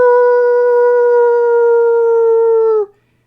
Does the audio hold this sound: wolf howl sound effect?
yes